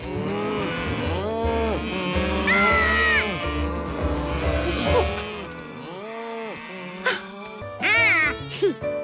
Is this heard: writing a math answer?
no